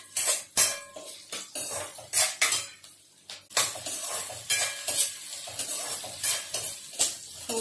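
Chopped onion softening in a pan, stirred with a metal spoon: rapid clinks and scrapes against the pan in an uneven rhythm over a soft, steady sizzle, close and fairly quiet.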